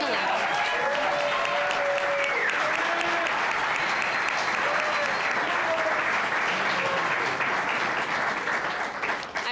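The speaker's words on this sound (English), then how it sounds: "Can we have another round of applause for Gala?" A loud, dense round of applause rolls on continuously from an audience at the Shad Derby Gala, with occasional cheers and voices rising above the clapping.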